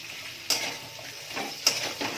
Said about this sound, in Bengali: এবার দিয়ে দিলাম পেঁয়াজ আর ক্যাপসিকাম